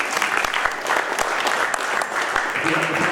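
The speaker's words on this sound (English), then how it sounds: "Give yourselves a round of applause" An audience at a data science meetup applauds, a dense sustained wash of many hands clapping at close-to-mid distance, with faint voices mixed in.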